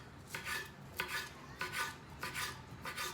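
Rolled-up basil leaves sliced with a kitchen knife, giving a steady series of soft, crisp cutting strokes roughly every half second, close and fairly quiet with no talking.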